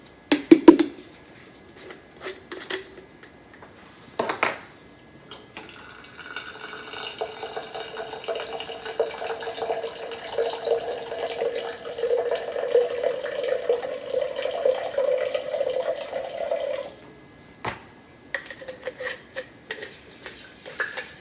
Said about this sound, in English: I'm going to rinse it out again.